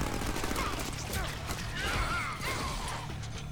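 Rapid bursts of gunfire from the gun cutter weapon in a Deadpool video game crackle and clatter continuously, loud and close, mixed with mechanical clanks and crashing impacts.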